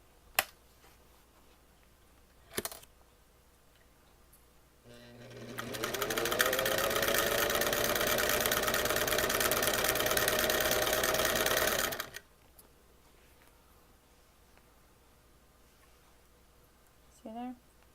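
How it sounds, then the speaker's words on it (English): A vintage Singer 327K zigzag sewing machine whirs into a fast, steady stitching hum for about seven seconds, bracketed by a few sharp clicks and handling noises before and after. "the Singer 327 zigzag and straight stitching"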